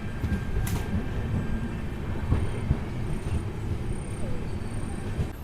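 Machilipatnam to Bidar superfast express train running at speed on the main line near Gudivada Junction, a steady rumbling roar of wheels and coaches heard from inside with faint squeals and clatter.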